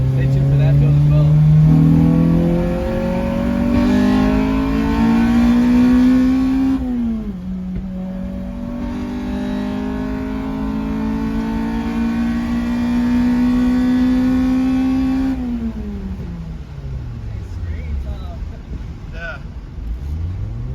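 Honda K24-swapped Mitsubishi Eclipse running on bad gas, its engine held at steady revs and then dropping twice in long falling sweeps, with scattered pops and crackles as it settles, loud and close.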